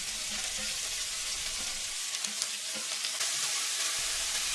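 Chopped onion and garlic fry in hot oil for a dhaba-style garlic spinach dish, producing a loud, continuous sizzle with a few soft clinks, heard alone without speech.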